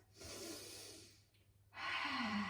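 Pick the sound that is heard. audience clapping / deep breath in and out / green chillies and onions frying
deep breath in and out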